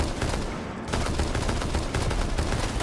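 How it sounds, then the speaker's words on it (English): Gunfire in the tactical shooter Rainbow Six Siege during a competitive esports match, rapid loud bursts of automatic shots crackling continuously for a few seconds with no talk over them. "Shots firing on through"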